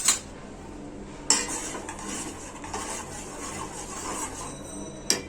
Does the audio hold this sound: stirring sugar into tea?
yes